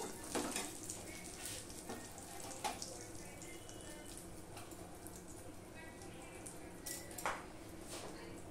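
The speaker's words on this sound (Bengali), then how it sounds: "যা তেল আছে এই তেলে আমি মাংসটা বসিয়ে দেবো" Mutton sizzles steadily in hot oil left from frying onions, a constant hiss broken by occasional sharp crackles and pops.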